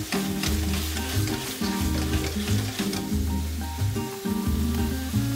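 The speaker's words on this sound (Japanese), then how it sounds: "このままカニを炒めながら" Blue swimmer crab pieces sauté in olive oil in a hot pan, with a continuous close sizzle over a steady low tonal backing.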